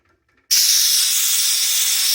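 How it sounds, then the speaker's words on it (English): Excess gas bleeding off from a stainless steel filling hose after a soda stream type bottle is filled from bulk: after a short silence a sudden loud, close, continuous hiss starts and holds steady to the end. "Now we're going to bleed off the excess."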